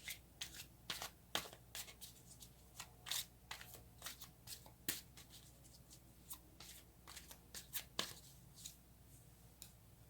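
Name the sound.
tarot cards being shuffled and drawn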